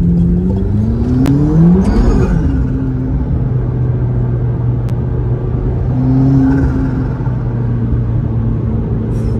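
A turbocharged McLaren sports car engine revs and accelerates loudly nearby, rising in pitch through the gears with a whooshing whir and a deep, steady rumble underneath.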